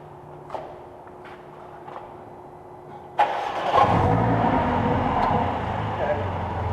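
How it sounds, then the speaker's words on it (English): A Mercedes A45 on a stage 1 tune with a performance downpipe starts with a sharp crank and bark, then settles into a loud, rumbling idle. Before it starts, there is quiet background with a few faint knocks. "So let's turn the car on and we'll see how nice it is."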